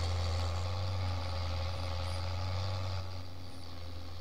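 Loud, steady diesel engine drone of a tractor pulling a John Deere planter in Farming Simulator, a strong low hum with broadband mechanical noise running continuously and close throughout, no talk.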